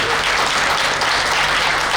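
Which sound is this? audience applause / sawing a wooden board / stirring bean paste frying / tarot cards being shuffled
audience applause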